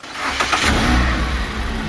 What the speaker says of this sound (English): The engine roared to life, and the car sped off, throwing gravel into the air